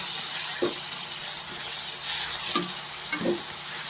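A spoon stirs ridge gourd and chana dal curry in a pan, a few soft scraping strokes over a steady gentle sizzle.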